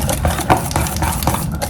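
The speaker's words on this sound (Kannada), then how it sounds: "ಈ ಕನ್ಸಿಸ್ಟೆನ್ಸಿಗೆ ಕಲಿಸ್ಕೊಳ್ಳಿ." Henna paste with lemon being stirred and mixed in a bowl, giving a steady wet, scraping churn with small clinks of the spoon against the bowl throughout, close and fairly loud.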